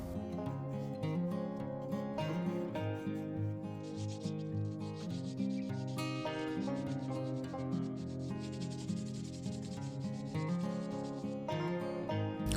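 Sandpaper of 180 grit rubs steadily over metal vehicle parts outdoors, a continuous scraping hiss with back-and-forth strokes close by and no speech.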